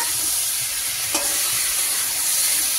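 Ginger and green chili paste, hand-ground on a stone, sautés in hot oil in a pan, a steady bright sizzle with a faint scrape of stirring partway through.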